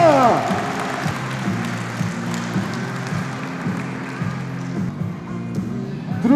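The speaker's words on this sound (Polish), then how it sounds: "Brawa!" A crowd claps and cheers continuously for a football club coach being introduced, the applause sustained over a steady hum, with voices and a tonal drone mixed underneath.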